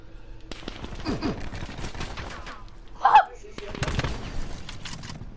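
Gunfire in a first-person shooter video game during a one-on-one match between friends, sporadic crackling shots and bursts over a constant game background, with one brief louder burst standing out near the middle.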